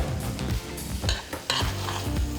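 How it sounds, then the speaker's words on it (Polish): Fried forest mushrooms are stirred into a dressing, with sizzling from the pan and scraping utensil strokes coming in short, close bursts, with no talk. "Przekładamy je do naszego dressingu. Wszystko mieszamy."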